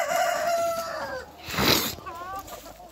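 Chickens cluck and call up close, one bird's voice rising into a drawn-out crow-like cry amid other fowl chatter.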